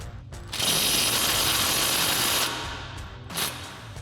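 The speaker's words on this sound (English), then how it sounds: "So we'll grab our 18mm socket on our impact and run that nut off." An impact wrench fitted with an 18mm socket spins off a sway bar end link nut on a 2015-2020 Ford F-150, a loud sustained ratcheting whir lasting about two seconds, followed by a brief second burst.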